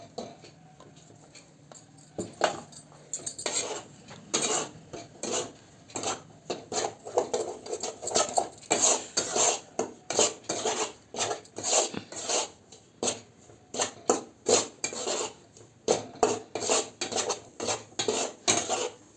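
Edible gum fries in ghee in a thin kadhai while a metal spoon stirs it continuously, giving rapid rhythmic clinks and scrapes over a soft sizzle, close and steady, with no talking.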